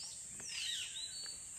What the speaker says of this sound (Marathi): सर्व पक्षी यांचे आवाज येत आहे